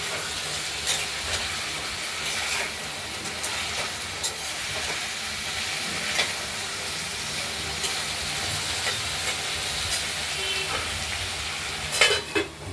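Potatoes and onions fry in a pan with a continuous close sizzle and hiss, punctuated by occasional stirring scrapes and a clatter near the end.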